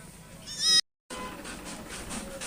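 A nanny goat in a pen with newborn kids gives one short, close, loud bleat, followed by a brief gap and then quieter background rustle.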